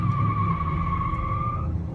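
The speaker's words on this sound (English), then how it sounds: "it actually like gets the tires going and spinning" Rear tires spin in place on a 2017 car held by a line lock feature, giving a steady high squeal over the engine's rumble that holds for nearly two seconds, then trails off. No talk.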